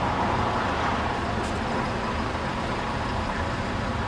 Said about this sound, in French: Beaucoup de voitures, c'est un peu bruyant parce qu'il y a des pavés qui datent de l'époque Haussmann